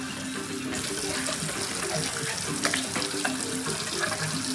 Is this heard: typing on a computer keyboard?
no